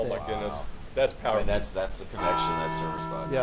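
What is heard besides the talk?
Liberty Bell being rung by visitors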